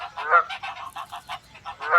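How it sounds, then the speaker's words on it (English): Geese honk in a quick run of loud, close, nasal calls repeating rhythmically for two seconds, with no talking. "Geese!"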